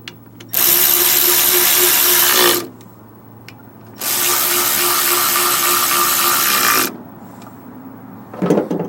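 A power drill snugs down screws on a Ryobi CS26 weed trimmer, running in two long, steady whirring bursts close by, separated by a short pause, with no talk.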